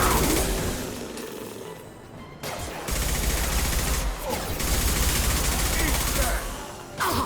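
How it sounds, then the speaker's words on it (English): Concussive shot gunfire in Mass Effect 2 amid a noisy firefight: dense, loud blasts and impacts in clustered bursts with short gaps, close and harsh, with voices mixed in. "Firing concussive shot!"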